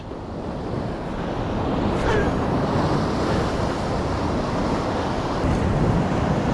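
Ocean swell washes against a rocky shore on a calm day, a continuous broad rush of surf rising and falling gently, close and fairly loud with no voices.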